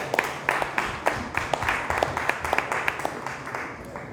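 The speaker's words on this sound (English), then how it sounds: "Give her a hand clap as she comes." Audience applause at an annual homecoming dinner: scattered, fairly light claps pop out over a steady room murmur for about four seconds, with some faint voices in the background.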